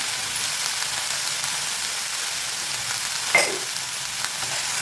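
Chopped tomatoes sauté with salt in a pan for a chutney, producing a steady, close hiss of frying with one brief utensil clink partway through.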